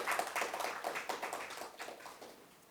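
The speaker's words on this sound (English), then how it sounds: "Applause" An audience applauds with a brisk, fairly faint patter of many hands clapping, thinning out over a few seconds.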